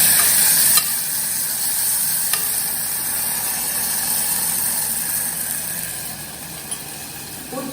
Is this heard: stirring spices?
yes